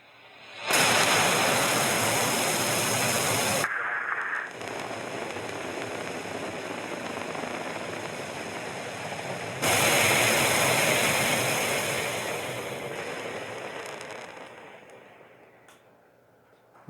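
A rocket launching a satellite in the space-agency game Mars Horizon gives a broad, roaring rush of engine noise in two loud bursts, the second fading gradually as the craft climbs away.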